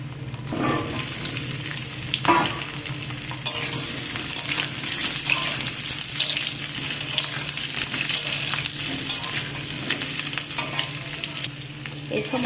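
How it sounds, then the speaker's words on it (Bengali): Peeled potatoes fry in oil in a wok, giving a steady crackling sizzle up close, broken by scraping and stirring noises and occasional light knocks of a utensil on the pan. "চোপা ছাড়ানো আলুগুলো সব দিয়ে ভালো করে আলুগুলোকে ভেজে নেব।"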